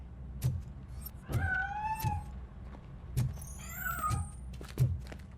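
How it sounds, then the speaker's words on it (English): Cat meowing in the video game RoboCop: Rogue City, several rising and falling meows spread across the clip, fairly close, over low game ambience and repeated thumping footsteps. "That cat must be hiding inside."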